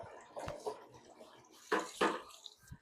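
Cut potatoes, coriander leaves, green chilies and onions being washed in water for a potato curry, with soft splashing and sloshing, then two louder close splashes near the end.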